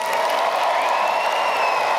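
Thunderous applause for Faculty of Mathematics graduates at a convocation ceremony, a dense, sustained clapping roar from a large crowd with a faint whistle-like tone above it.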